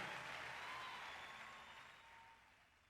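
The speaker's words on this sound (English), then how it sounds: "That was the last few seconds of applause." Faint crowd applause steadily fading away into quiet over a few seconds.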